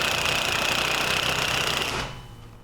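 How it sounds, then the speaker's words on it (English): Step drill bit enlarging a hole to 1/2 inch in a Toyota sway bar, a steady, rapid whirring grind that cuts off near the end, leaving a quieter tail. "First, a 1/4 inch pilot hole, then, using a quality step,"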